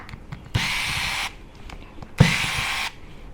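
Two separate bursts of a small electric screwdriver, each running steadily for just under a second, as screws come out of a vivo Y3s phone during a screen replacement.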